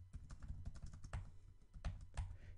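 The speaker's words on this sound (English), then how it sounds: "now I'm going to do a control Z again and then start typing again" Rapid clattering keystrokes on a computer keyboard while entering Cisco router commands, an irregular burst of close, crisp clicks with a few heavier key thumps, no voice.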